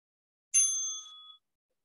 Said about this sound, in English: And that's your first bell.